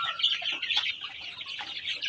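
Zampen native chickens in a farm pen cluck and chirp in a steady, busy chorus of overlapping calls at moderate distance, with no talk.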